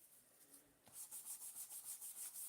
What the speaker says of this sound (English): I'm going to take my brush and just kind of gently rub against the